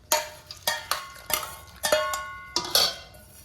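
Metal utensils clank and ring against a pot of cauliflower pickle as tempering is poured in, about eight bright, close clinks in an irregular rhythm, with no talk.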